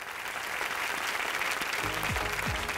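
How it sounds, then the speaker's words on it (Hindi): Studio audience applause on the Big Memsaab TV competition show, loud, dense clapping from a crowd that holds steady for about three seconds, with music rising beneath it toward the end. "जोरदार तालियों से स्वागत करी"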